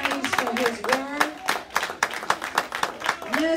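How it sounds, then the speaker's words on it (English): A church congregation claps hands in praise during a women's recognition day service, a brisk run of close, sharp claps with a voice speaking over them. "Let's give the Lord a hand clap of praise for his word."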